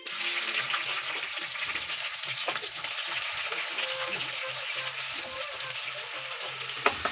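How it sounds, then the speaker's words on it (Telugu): Curry leaves sizzle and crackle in hot oil in a kadai, a loud steady frying hiss with sharp pops and occasional stirring, close to the pan. "ఆయిల్లో కరివేపాకు వేసేస్తున్నాను."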